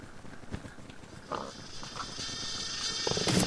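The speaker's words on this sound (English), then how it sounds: "Oh, I hear a super sheep coming at me." Super sheep item approaching in a Minecraft kart racing game: bleating animal cries rise and grow louder over a few seconds against game noise.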